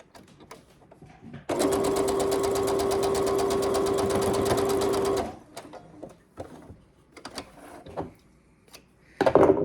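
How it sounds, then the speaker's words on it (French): A sewing machine stitches two quilt pieces face to face for a Christmas quilt, running loud and steady for about four seconds, then giving way to quieter handling noises and short bursts of stitching. "je vais le coudre face contre face"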